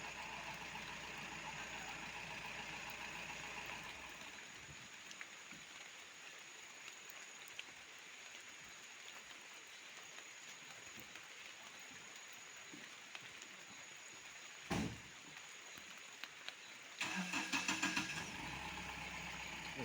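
A stuck vehicle on a road in Nagaland idles steadily under rain as another driver takes the wheel, with a couple of brief louder bursts and a rougher surge of engine noise near the end.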